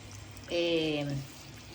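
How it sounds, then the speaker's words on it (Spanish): Water is poured from a glass into a sauce for patatas bravas. It makes a short, soft splash lasting under a second in an otherwise quiet kitchen. "entonces lo que añadimos es el agua"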